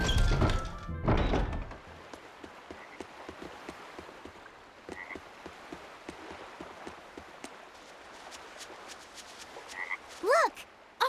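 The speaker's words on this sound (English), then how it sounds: "Look! A frog!" A frog in the video game Tales of Berseria gives a run of soft, rhythmic croaks by a seaside port, after an opening thump and clatter, with a louder croak near the end.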